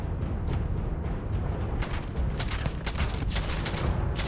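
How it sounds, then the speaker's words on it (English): Rapid gunfire bursts and volleys from a sci-fi shooter game in Starfield, loud and continuous with overlapping shots across the whole stretch. "Stop shooting at me!"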